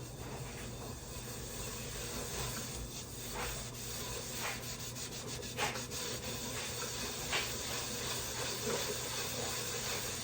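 Scrubbing with Comet cleanser during a restoration cleanup, a steady close rasping rub that repeats in quick strokes over a constant background hiss, no talk.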